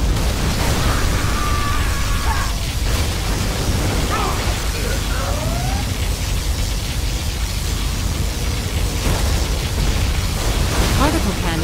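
A USA particle cannon fires in Command & Conquer Generals during a large battle, a constant roaring, hissing blast of explosive noise with scattered pops and bursts throughout.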